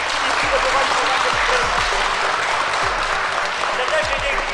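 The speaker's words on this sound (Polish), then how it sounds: "podziękujemy oklaskami tym, co organizowali i przygotowali się na to" An audience at an indoor throwing competition grand prix applauds the organizers, giving dense, steady clapping that fills the hall from start to finish, with voices under it.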